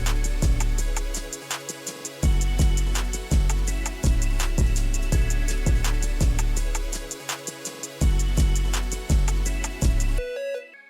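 Full emotional hip-hop beat with 808 bass, clap, hi-hats, rim snare and kick over a melody, driving steadily with brief drops where the low end cuts out, ending in a short glitchy fill.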